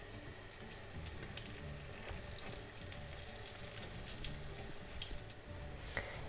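Puffy breakfast dough pieces fry in oil in a pan, giving a steady, close sizzle with scattered crackles and pops, alone without talk.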